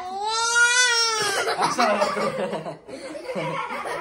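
A pet parrot perched on a kitchen imitates crying, letting out a rising, wavering wail that breaks into choppy chattering and laugh-like sounds, close and fairly loud.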